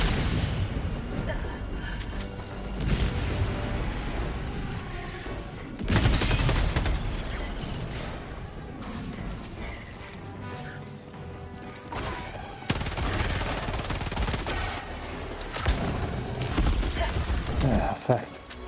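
An AR-23P Liberator Penetrator rifle fires in Helldivers 2 in bursts of loud, close shots that come in several surges amid other battle noise, while a player talks between volleys.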